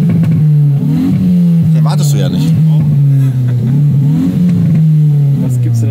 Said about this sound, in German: Wenn du Gas gibst und schaltest, das hört sich mit dem DSG und so, ist geil.